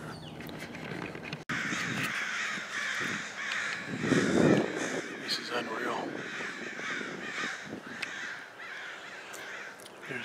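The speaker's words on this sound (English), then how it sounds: "There's probably 100, 150 crows above me right now." Dense, continuous cawing from a large flock of crows, harsh calls overlapping constantly, with someone speaking briefly underneath.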